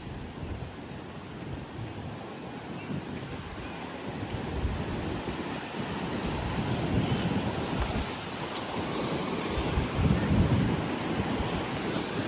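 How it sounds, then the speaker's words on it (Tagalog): Light rain begins during a storm on Boracay island, a broad, steady wash of drops and low rumbling wind that slowly swells in loudness, with no voices. "Ayun mga kaisla, umambon na."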